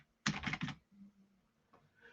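A short burst of three fast keystrokes on a computer keyboard, entering a search in a Microsoft Teams menu, then quiet with a faint hum and one small click, close and alone.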